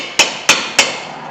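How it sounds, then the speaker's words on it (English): Three sharp metallic hammer taps on the front brake parts of a 2008 Toyota Corolla, evenly spaced about a third of a second apart, each ringing briefly before fading. "Just give it a few nicks with the hammer."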